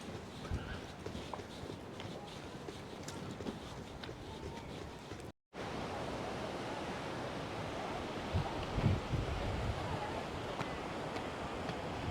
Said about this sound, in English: But the waves look really intense and really nice here as well.